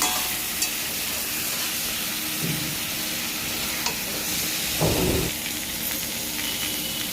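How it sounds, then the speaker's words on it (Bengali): Marinated singhi fish fries in spices with a constant close sizzle, while occasional scrapes and a couple of heavier stirring thumps sound from the pan. "এই মাছটাকে দিয়ে দেবো এখানে এবার ভালো করে মাছটাকে নাড়িয়ে নেব"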